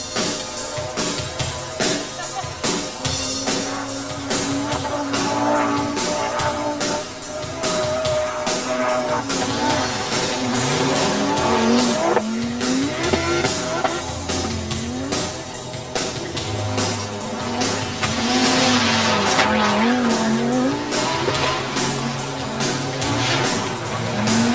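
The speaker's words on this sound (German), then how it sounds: "Auch Audi präsentiert ein neues Auto, den Quattro Sport" An Audi Quattro Sport rally car from the 1984 rally world championship drives hard, its engine revving and shifting up and down in loud, continuous bursts with tire noise throughout.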